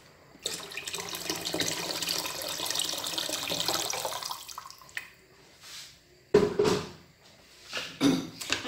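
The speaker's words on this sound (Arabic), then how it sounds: "دابا غادي نزيد فيها الماء صراحه." Water poured into a cooking pot while making barley grits soup: about four seconds of steady filling and splashing up close, then a few shorter pours and drips with pauses between, and no talking.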